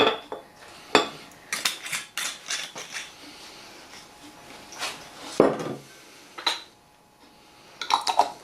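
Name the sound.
sterilised lid put on a glass jar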